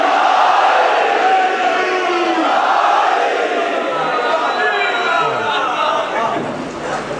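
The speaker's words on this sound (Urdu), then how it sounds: "دونوں ہاتھ بلند کر کے نعرے حیدری۔" At a Shia majlis gathering, a large crowd roars the Nara-e-Haidari slogan in unison, a loud dense wall of voices that swells and then fades toward the end.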